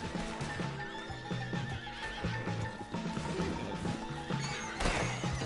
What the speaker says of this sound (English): Horses over there! Come on, ride Strauss!